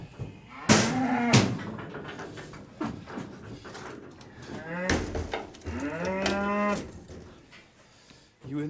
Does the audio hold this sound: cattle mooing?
yes